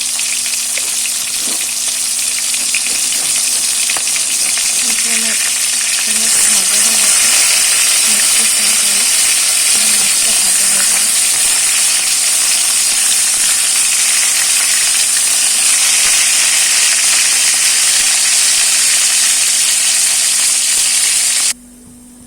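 Fish frying in hot oil in a pan for a Bengali fish curry, a close, loud and steady sizzle with occasional stirring scrapes, no speech, and a sudden cut to near silence at the end.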